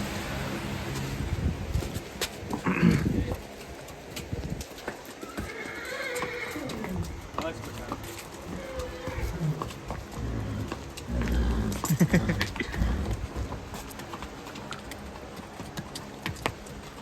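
A mare neighs on a farm with a ring and farmhouse, its whinnies rising a few times amid scattered hoof clops and general yard noise, fairly close and moderately loud, with little talk.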